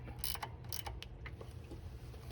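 A wrench tightening the stem clamp nut on a Honda Trail125 motorcycle, producing a few quick ratcheting clicks near the start and then fainter metallic ticks, close but quiet over a low background hum.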